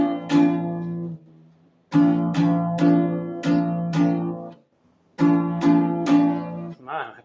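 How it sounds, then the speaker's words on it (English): Full barre chord strummed on a guitar, ringing strokes in two groups with a pause between, each strum sharp at the attack and decaying, played somewhat unevenly with a short scrape at the end. "Okay, and the full bar chord will sound like this."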